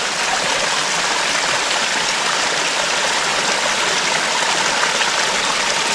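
Whitewater rapids on a river in southeast Alabama, a steady, loud rushing roar of churning water with no letup and no voices.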